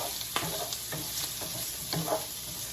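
Zucchini and prawns sizzle loudly in a skillet for a Cajun sausage and shrimp dish, a close, steady frying hiss broken by several soft stirring scrapes.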